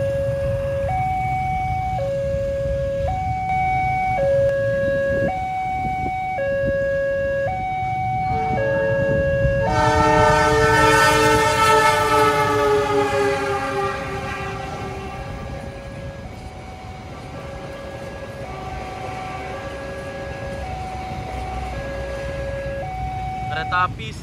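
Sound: Sancaka train passing railway level crossing, Sragen

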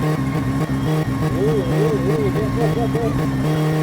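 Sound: car engine revving in the video game My Summer Car

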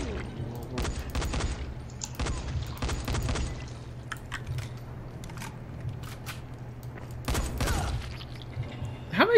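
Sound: gunfire in video game Dying Light: The Following

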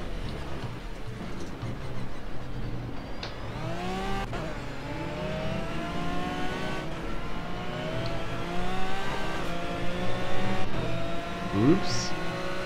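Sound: Aston Martin GT3 race car engine driving, Project CARS video game

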